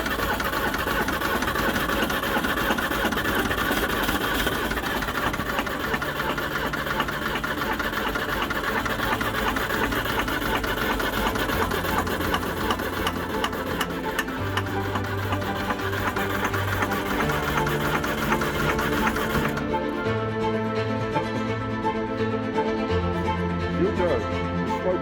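A Land Rover Series III engine runs hard at full throttle, a continuous loud mechanical drone with a steady rattling beat that carries through the whole stretch, with some low voices in the background.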